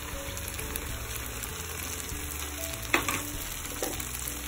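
Onions with ginger garlic paste fry in a pan for shahi chicken white korma, a steady soft sizzle broken by a couple of louder stirring scrapes near the middle, with no one talking.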